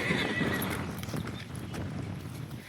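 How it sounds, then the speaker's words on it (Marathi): Horses at a bustling horse market in Yeola, where horses are sold for cart races: hooves clip-clop steadily and a horse whinnies close by, over a constant murmur of crowd noise. "मित्रांनो बघा घोडा मस्त आहे दिसायला"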